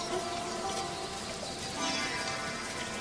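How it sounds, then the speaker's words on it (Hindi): Rain falling in a steady, dense patter that fills the whole moment evenly at moderate loudness, with no voices over it. "अब बारिश होने लगी"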